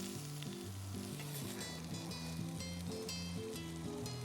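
Shrimp sizzle steadily in a frying pan for a warm shrimp and squash salad, a continuous close, loud frying hiss with faint stirring and no talk over it.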